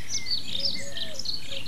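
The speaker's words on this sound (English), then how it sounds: "There's birds singing all around me." Birds chirp and sing all around outdoors at a fishery in the late afternoon, light scattered calls at moderate distance over a soft steady background.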